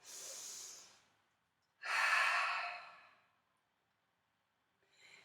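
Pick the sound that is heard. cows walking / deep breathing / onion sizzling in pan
deep breathing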